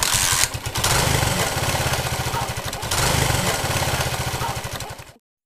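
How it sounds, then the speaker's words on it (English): A motorbike engine, kick-started, putters into a steady running idle with a throaty rhythmic chug, briefly dipping before settling, then cutting off abruptly at the end. "jump on the Kickstarter, and the output to look for, the sound of a running engine"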